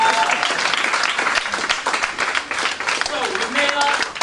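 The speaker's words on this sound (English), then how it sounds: "give this young lady another big round of applause" An audience applauds a young woman at a London community event, dense clapping and crowd noise filling the space, loud and close, with voices mixed in over the clapping.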